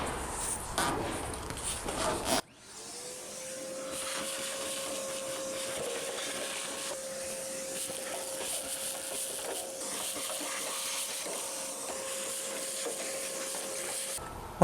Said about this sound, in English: I'm just going to take a shop vac and vacuum it out